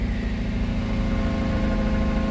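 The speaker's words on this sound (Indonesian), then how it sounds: "Cuman suara knalpotnya jadi begitu." A cold Toyota Vios Limo engine idles through its exhaust with a low, steady rumbling drone that holds constant throughout; the engine has a hesitation and misfire fault.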